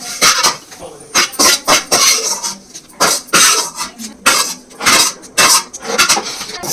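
Dry red chillies are stirred in oil in a pan for a chuduva snack, with a steady run of quick, close scraping and clattering strokes of the utensil against the pan, each burst loud and brief.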